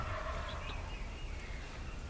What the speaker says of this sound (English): we are surrounded by gobblers on about all sides